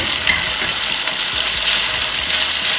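Starchy pasta cooking water is spooned over cooked pasta, giving a dense, continuous wet hiss and splash close by that stays even for a few seconds, with no talking.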